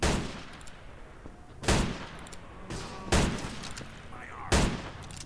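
Gunfire in the video game Garry's Mod during a WWII roleplay battle: four sharp, loud shots spaced about a second and a half apart, each with a short echoing tail, over faint background voices.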